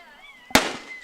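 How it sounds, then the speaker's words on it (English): A single loud firework bang bursts over left field at a baseball game, Winnebago against North Bend, with a decaying crackle and rumble after a quiet moment of high whistling tones. "We got more fireworks out there in left field out there."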